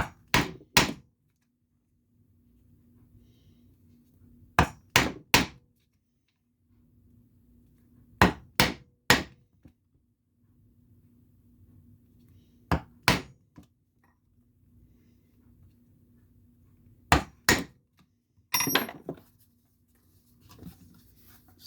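A metal punch is struck with a hammer to step out holes in a leather western holster. The sharp, close taps come in clusters of two or three, separated by pauses, over a faint low hum.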